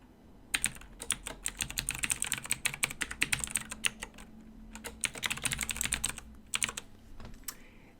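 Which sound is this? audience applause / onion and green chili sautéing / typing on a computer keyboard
typing on a computer keyboard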